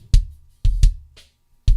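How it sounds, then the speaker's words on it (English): A punchy kick drum processed through an SSL G channel strip preset, with four hard, deep hits in an uneven pattern, each with a short boomy tail, loud and isolated. "on the kick drum, we have the SSLG channel,"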